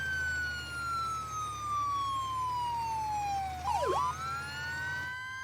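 A video game police siren wails in a long slow sweep, then briefly yelps before rising again, steady and clear over a low engine rumble.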